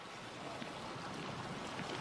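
Cold, grey, silt-laden glacial stream water rushing in the wild, a steady broad wash of flowing water mixed with wind across the microphone, continuous and fairly faint with no talking.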